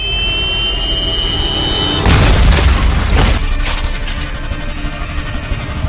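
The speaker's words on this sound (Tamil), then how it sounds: "ஒரு நிமிஷத்துல வெடிக்கக்கூடிய ஒரு டைம் பாம்" A sudden loud boom erupts partway through, followed by rumbling debris and crackling that gradually fades, after a high electronic tone.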